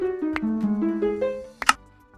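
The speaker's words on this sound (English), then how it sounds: "it is the Legend of Zelda's secret noise when you open up a chest" A short jingle of rising tonal notes, the secret chest-opening tune from Legend of Zelda, built with note blocks in Minecraft, played alone and ending in a brighter chime near the close.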